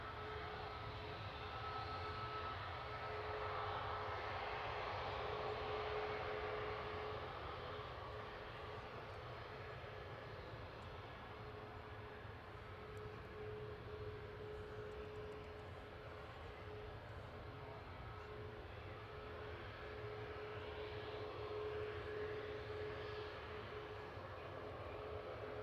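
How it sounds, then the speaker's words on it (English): An EasyJet airliner arriving from Geneva at Manchester Airport at dusk, its engines a steady, broad distant roar lasting throughout, slowly swelling and easing with no voices over it. "Next arrivals, EasyJet from Geneva."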